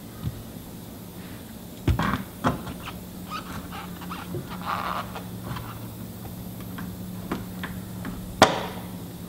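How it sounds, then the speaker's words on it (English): Interior trim clips on a Land Rover Discovery 2 pried loose with a flat screwdriver and side cutters, sharp irregular clicks and snaps over a steady low hum, with a few louder pops standing out. "now we've got to pop the clips all the way down towards the front"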